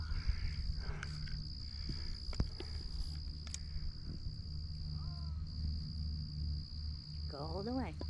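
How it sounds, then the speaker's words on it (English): Crickets chirping outdoors as the daylight fades during the 2024 total solar eclipse, a steady high-pitched trill running throughout, with faint voices, footsteps and a brief bird call near the end. "We just started hearing crickets."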